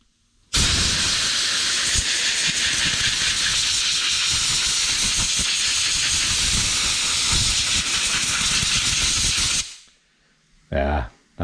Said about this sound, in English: I'll blow this air cleaner out a little bit.